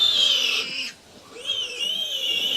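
A farm sow squeals in long, high, piercing cries, close and loud, with one brief pause before the squealing resumes.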